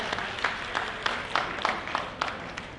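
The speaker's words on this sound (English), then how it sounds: "So give Bon a big round of applause" Scattered, irregular hand claps from a small audience at a PyCon PH 2018 tech conference session, moderately loud in a room, with no talk over them.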